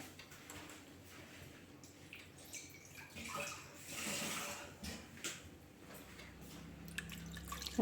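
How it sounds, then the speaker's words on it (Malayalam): Water is poured into a ground sardine masala mixture for mathi peera. A faint, rushing splash swells for a few seconds, with scattered drips and light clinks before and after. "ആവശ്യത്തിന് വെള്ളം ഒഴിക്കാം."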